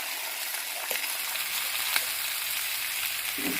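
Beef short ribs searing in a hot pan to build a crust give off a steady, bright sizzle, with a few soft clinks and knocks as pieces are turned; no talking.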